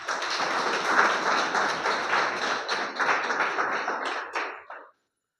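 An indoor audience at a health-plan meeting claps loudly for first-time guests, a dense burst of applause that holds steady and then tapers off and stops abruptly.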